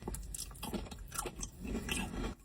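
Someone chews a crunchy pistachio-flavoured treat close to the mic, with irregular crisp bites and crunches alternating with softer wet chewing.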